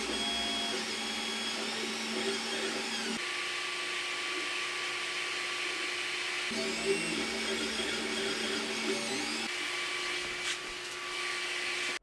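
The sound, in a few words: quiet 3D printer with cooling fans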